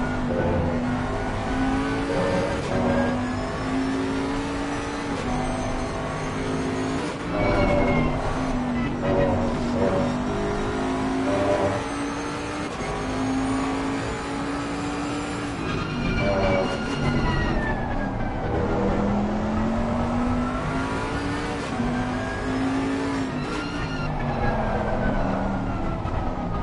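Onboard engine of a Bentley GT race car in Assetto Corsa Competizione at the Hungary circuit, loud and close, revving through repeated upshifts and downshifts with steady engine drone throughout.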